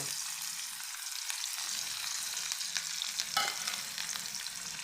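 Onion dropped into hot oil tempered with five-spice panch phoron, frying with a soft, continuous sizzle and occasional stirring scrapes, fairly quiet and close with no voices.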